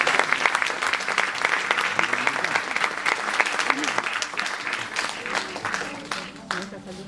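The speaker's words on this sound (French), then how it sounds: "Sous les applaudissements du public." Audience applause fills a comedy stage show, steady dense clapping throughout with brief shouts, tapering slightly near the end.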